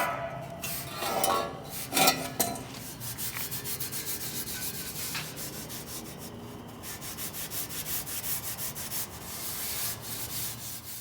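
A cloth or rag rubs back and forth over a rust-inhibitor-soaked exhaust header from a race Civic, soft rhythmic scrubbing strokes, close but quiet.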